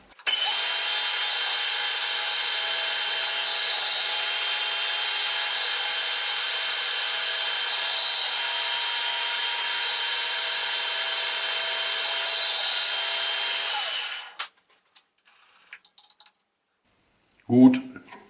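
A machine tool cuts a new gear part from metal with a loud, continuous grinding whir for about fourteen seconds, then stops abruptly, leaving a few faint clinks and a brief closing sound.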